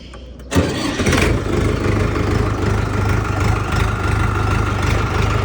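A heavy Jinma 504 tractor engine cranks and catches after a brief pause, then settles into a loud, steady rumbling idle that continues without a break.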